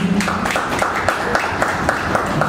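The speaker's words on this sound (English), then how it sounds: "Can I please have a huge round of applause for that?" An audience at a magazine cover launch event claps steadily and loudly, with individual claps landing in a fairly even rhythm throughout.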